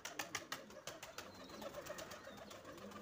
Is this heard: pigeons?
yes